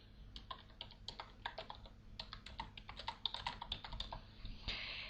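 Rapid, quiet clicking of keys on a computer keyboard, a steady run of close key taps with small irregular pauses, no voices.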